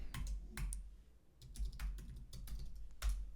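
Keys clack on a computer keyboard as a password is typed, a quick irregular run of soft close clicks in small bursts with short pauses, faint and with no talk.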